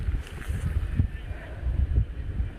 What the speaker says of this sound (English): it is fairly windy here today